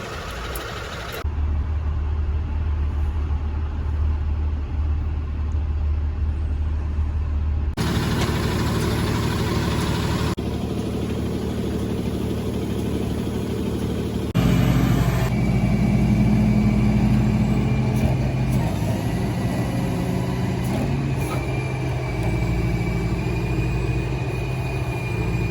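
A tow truck's engine runs steadily at a low rumble throughout a car offload, with shifts in tone and load as the equipment works, and no voices.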